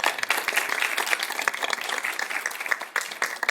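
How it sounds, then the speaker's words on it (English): An audience at an agroecology and urban agriculture panel applauds the panelists with a full, even round of clapping that holds steady for a few seconds. "how about a round of applause to all of our panelists today?"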